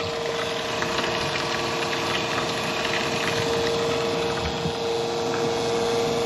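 A steady fuel transfer pump moving fuel between tanks hums and whirs continuously with a constant tone, close and fairly loud, no pauses.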